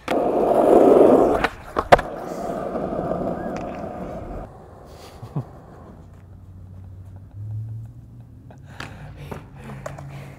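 Skateboard wheels roll loudly along pavement toward an obstacle during an ollie attempt, with a sharp clack of the board mid-run, then quieter rolling and scattered taps as the board settles; a voice speaks briefly.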